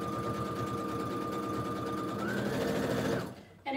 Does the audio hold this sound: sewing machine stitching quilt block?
yes